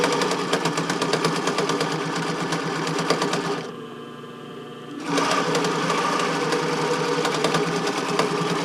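A sewing machine fitted with a ballpoint needle stitches swim fabric panels in steady rapid bursts, loud and close, with a brief pause in the middle before the stitching resumes.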